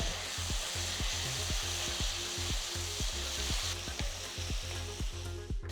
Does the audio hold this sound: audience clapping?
no